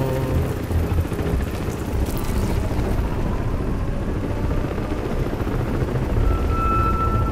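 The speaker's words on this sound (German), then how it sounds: "Drei, nein, vier Cell-Eingreifteams nähern sich deiner Position. Mit Helikopter." Helicopter rotor noise in the video game Crysis 3 as the aircraft approaches, a steady broad roar with low thumping that fills the whole stretch at constant loudness, no talk.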